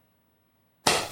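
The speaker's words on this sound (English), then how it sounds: "Good clap. That's what that sound was." A single sharp hand clap bursts in after near silence, followed a moment later by a second short crisp clap, loud and close with no talk.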